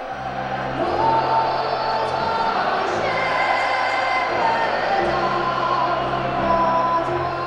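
Football crowd of about 25,000 Baggies fans singing together before kick-off at a stadium, a loud, continuous massed chant with sustained sung tones filling the whole stretch.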